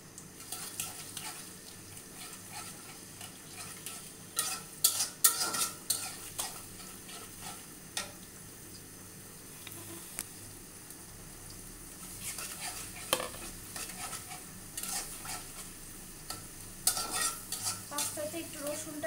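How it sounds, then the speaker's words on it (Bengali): Garlic and other ingredients for spicy pasta hit hot oil and sizzle softly and steadily, broken by scattered clinks and scrapes of a utensil against the pan. "তো আমার এখানে অলরেডি তেল গরম হয়ে গিয়েছে। আমি সব দিয়ে দিচ্ছি।"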